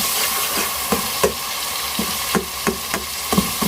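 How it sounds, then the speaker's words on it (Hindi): Chopped tomato sizzles steadily in hot oil in a pan for potato tahari, with a spoon stirring and clicking against the pan every second or so. "ये हमने टमाटर डाल दिए।"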